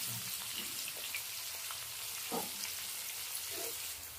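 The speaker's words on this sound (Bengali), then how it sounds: "দেখো হালকা লাল লাল হয়ে গেছে কপিগুলো ভাজা" Cauliflower pieces fry in hot oil with a steady, soft sizzle and crackle, punctuated by a few light stirring sounds; no one speaks.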